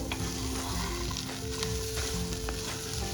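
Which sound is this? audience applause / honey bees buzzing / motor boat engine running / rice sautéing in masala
rice sautéing in masala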